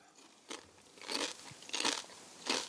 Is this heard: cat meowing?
no